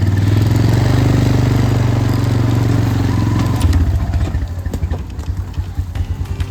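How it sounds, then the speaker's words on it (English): A quad bike engine idles with a low, steady rumble loudly up close, then shifts to a rougher, pulsing chug with some rattling in the second half. "I'm on my quad bike"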